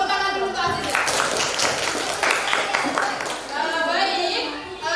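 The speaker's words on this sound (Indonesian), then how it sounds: "Tepuk tangan dulu" Classroom applause for a student breaks out in a lively wash of clapping, mixed with children's and adults' voices talking over it.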